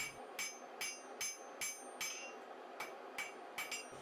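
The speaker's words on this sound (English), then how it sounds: "So I began by forging this stub out to the same width as this small piece of blue steel." A hammer strikes a stub of Damascus steel during forging in a steady series of about a dozen sharp ringing metallic blows, roughly two or three per second, faint and distant with no voices.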